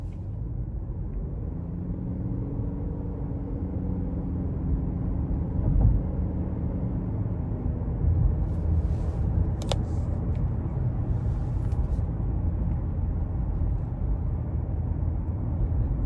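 A 2021 Honda Accord Hybrid EX-L with a CVT cruises in economy mode. Steady low road and tire rumble is heard from inside the cabin, with a few faint clicks and no speech.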